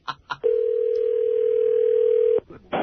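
A steady, loud telephone dial tone holds for about two seconds, with short clicks and tone bursts before and after it, as a prank call is being placed.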